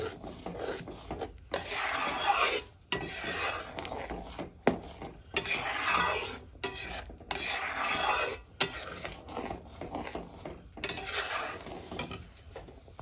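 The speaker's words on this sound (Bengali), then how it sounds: "সসটা এরকম মাঝে মাঝে নেড়ে দিতে হবে" Tomato sauce stirred in a kadai, with repeated rhythmic scraping and rubbing strokes of a spoon against the pan, close and fairly loud with brief gaps between strokes.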